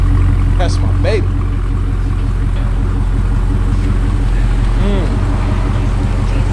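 A Dodge Charger 392 Scat Pack on its stock exhaust idles with a steady, loud, deep rumble that never lets up. Voices talk over it throughout.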